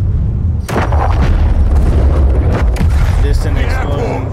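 Explosion in the Call of Duty: Modern Warfare 3 campaign, a loud broadband blast with rumbling debris that carries on through the whole stretch, with voices underneath.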